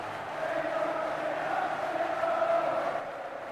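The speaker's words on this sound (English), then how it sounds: "the crowd is really loud" Steady, dense roar of a stadium crowd in the Kickoff football video game, a continuous even wash of noise with no distinct cheers or peaks, moderately loud throughout.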